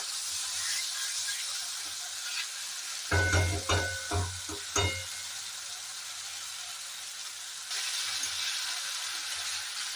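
Goat liver being fried with spices for a Bengali jackfruit curry gives a steady close hiss and sizzle, interrupted midway by a short run of clattering metal stirs before the frying noise carries on alone.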